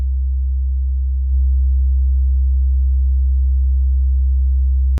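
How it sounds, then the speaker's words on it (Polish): A deep, steady bass wave tone drones on, then about a second in, through an LA-2A compressor emulator, it thickens with added upper harmonics, sounding warmer and fuller until it stops. "Nakładając kompresor LA2A,"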